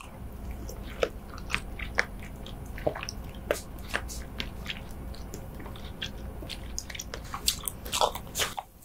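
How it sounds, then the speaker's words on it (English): Close-up eating of a big spoonful of salmon roe (ikura), with sharp wet pops and squishy bites scattered one by one over soft chewing, no talk. "It just like pops inside your mouth one by one."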